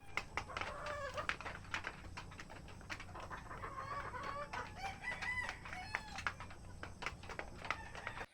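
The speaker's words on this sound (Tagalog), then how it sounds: "Puro sila mga cockerels na alpas ngayon at may pailan-ilang pulet na nakaalpas sa kubo" Free-ranging cockerels and a few pullets in an outdoor range area near a hut crow and cluck continuously, several birds overlapping at close to moderate distance over steady background noise.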